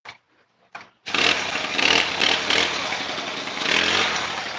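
A cold Honda GX35 grass cutter engine gives a couple of short pulls, then catches and roars loudly, close by with uneven throttle swells.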